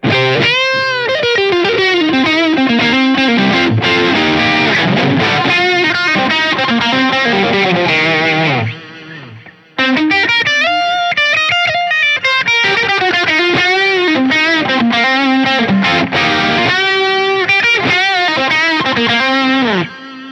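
Electric guitar played through a Line 6 POD GO amp-modeler preset with the bass trimmed, a loud, driven tone with steady riffs and bent notes, a brief pause midway, then more playing, with no talk.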